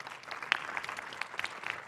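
Applause for a startup pitch presenter at a space-industry pitch event, a fairly faint, steady patter of clapping from a small audience with a few sharper individual claps standing out.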